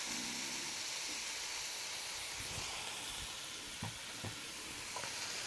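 Onions and two cloves of minced garlic frying in a pan, a steady close sizzle with soft hiss and a few light stirring scrapes and taps near the end.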